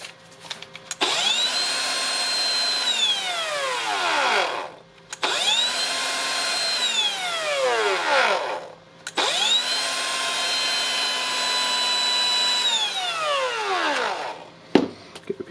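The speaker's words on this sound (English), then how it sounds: "We have the grinder working" A Makita DGA505 brushless angle grinder is switched on three times after a repair; each run spins up to a high, steady whine, holds for a few seconds, then winds down as it coasts to a stop.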